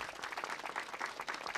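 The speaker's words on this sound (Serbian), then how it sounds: "jedan aplauz za ove mlade umetnike" A studio audience at a televised show applauds young performers, a full, sustained burst of clapping from many hands with no speech over it.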